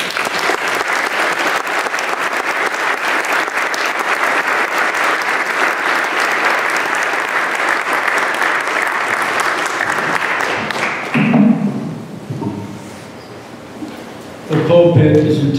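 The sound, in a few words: audience applause welcoming the speaker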